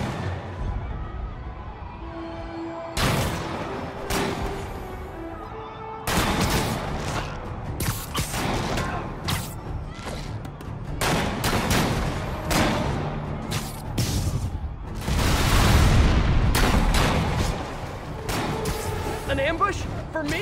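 Convicts fire sniper rifles in Marvel's Spider-Man Remastered: loud, sharp reports crack out one by one at irregular intervals over about twenty seconds, mixed with booms, impacts and game sound, with speech running underneath.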